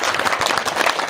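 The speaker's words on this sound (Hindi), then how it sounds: "एक बार जोरदार तालियां।" A crowd at a community speech gathering claps loudly, a brief, dense burst of applause that stays close and even.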